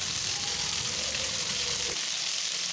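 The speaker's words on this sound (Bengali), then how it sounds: "মাছ ভাজার পর যে অবশিষ্ট তেল ছিল তাতে রাঁধুনি ফোড়ন দিয়ে মাছগুলো এক এক করে তার মধ্যে দিয়ে দিলাম" Fish pieces drop into hot leftover frying oil tempered with radhuni seeds, giving a loud, continuous sizzle and crackle close up, with a slight dip in the low rumble toward the end.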